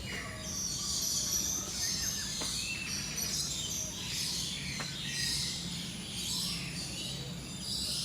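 Birds call and chirp through a steady wash of insect and ambient noise at KL Bird Park in Kuala Lumpur, Malaysia, with a few brief sharp calls standing out over the dense background.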